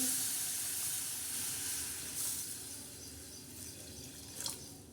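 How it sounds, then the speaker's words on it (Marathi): Soft, steady watery hiss and rush as a glass of water is poured into a hot pan, with a faint bubbling swell near the end. "एक ग्लासभर पाणी टाकणार आहोत"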